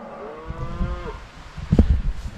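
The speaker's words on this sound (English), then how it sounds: "They're very vocal over there." A cow lets out one long, drawn-out moo at moderate distance across open countryside beside woodland, followed by rustling and low thumps of movement nearby.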